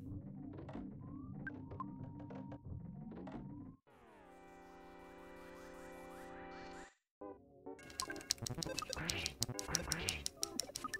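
Mad Duck enemies in the game Earthbound quacking amid retro synthesized battle music, with a rising electronic sweep and bright chiptune bursts, all loud and continuous with no talk.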